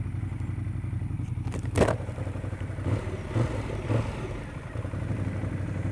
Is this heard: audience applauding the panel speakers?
no